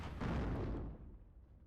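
A Focke-Wulf 190 strafing run on a Sherman M4A1 in the Normandy 1944 wargame Steel Division: Normandy 44 bursts out as a single loud, low boom that rolls away into a fading rumble.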